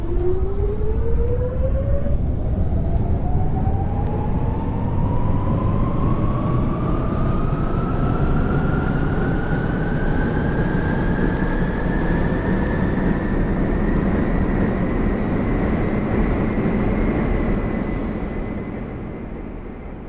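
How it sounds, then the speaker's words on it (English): An R46 subway train runs in the OpenBVE railway simulator, a steady loud rumble under a rising motor whine that climbs in pitch as it accelerates, then eases slightly at the end. "This is a Queens-bound D train via the R line."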